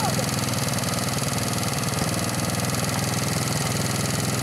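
A motorcycle engine idles close by with a steady, even rumble that holds without any revving for the whole stretch.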